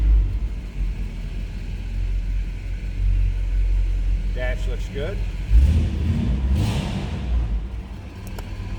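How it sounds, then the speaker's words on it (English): A 1964 Chevrolet Impala convertible with a 327 V8 holds a steady, deep low rumble at idle, swelling briefly midway through, while someone talks over it. "good sounding car, nice deep throaty exhaust note"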